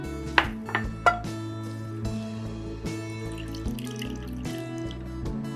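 Water is poured into a pan of curry being cooked with garam masala in a home kitchen. A few sharp clinks of utensils come first, then a steady splash and trickle continues under a low kitchen hum, with no talking.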